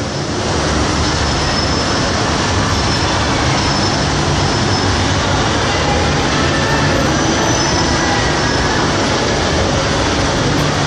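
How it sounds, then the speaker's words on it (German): A BTS Skytrain pulls into an elevated station in Bangkok with a loud, continuous roar of wheels and rail noise filling the scene throughout, steady and close. "Ah, das ist meine Bahn."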